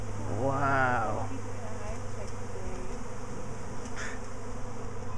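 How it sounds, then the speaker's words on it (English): A swarm of bees buzzes outdoors over grass, a steady droning hum with a voice rising briefly over it near the start. "What is it? Bees."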